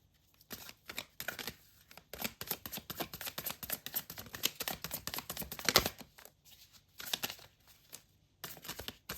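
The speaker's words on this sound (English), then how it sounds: "One more shuffle." Tarot cards being shuffled by hand, close crisp bursts of riffling and flicking paper in irregular clusters separated by short pauses, alone without talk.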